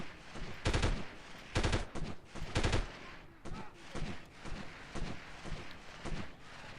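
Gunfire in the 1998 video game Delta Force comes as loud automatic bursts in several rhythmic volleys, followed by lighter scattered shots and clicks, close and alone without talk.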